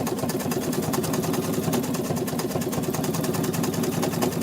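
Sewing machine satin stitching an angel applique, a fast, steady mechanical rattle of the needle running continuously at close range with an even hum beneath.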